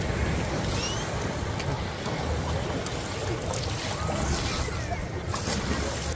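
Big sea waves off Boracay Island roar and rush steadily around a clear crystal kayak, a dense, constant wash of water noise close by.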